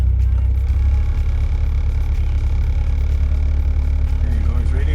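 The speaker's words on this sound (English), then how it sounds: "car is in idle, it's idling right now." A Honda Accord engine idles steadily, a constant low rumble close by that holds level for the whole stretch with no revving.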